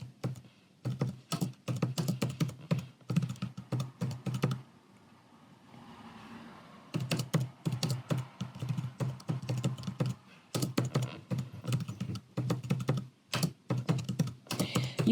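Rapid typing on a computer keyboard while a personal statement is drafted, a steady stream of close, crisp key clicks in bursts with a brief pause in the middle.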